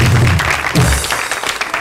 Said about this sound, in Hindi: आर्मी के लिए भी तालियां हो जाए बहुत सारी।